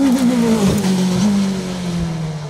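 A Norma M20 FC 2-litre race car climbs a French hill-climb course at Bagnols-Sabran, its engine loud and near, holding a high steady drone while the pitch sags slightly as it pulls away.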